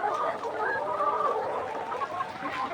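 Layer hens in a poultry shed cluck and murmur together, a dense overlapping chorus of many birds close by, steady throughout.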